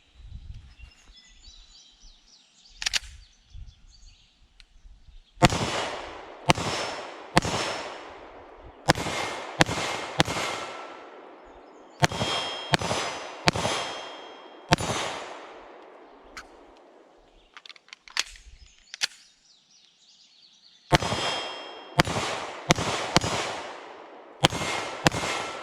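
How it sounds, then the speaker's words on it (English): Pistol shots from a PSA 5.7 Rock chambered in 5.7x28mm, fired at 10 yards on a range: a dozen or so sharp, loud cracks in uneven groups separated by pauses, each with a short decaying ring. "We'll take some shots and just verify where she's hitting for us."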